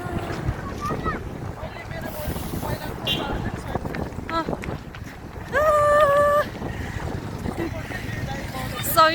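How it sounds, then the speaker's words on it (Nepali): Strong wind gusts buffet the microphone on a hilltop at Kapan, a steady roar under close chatter and laughter from a group of hikers, with a brief tonal chime midway. "यस्तो यस्तो खतरा हावा आइरहेको"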